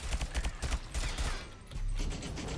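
A sentry turret in the game SENTRY fires at enemies, a rapid stream of short thudding shots in quick repeating bursts, moderately loud over low background noise.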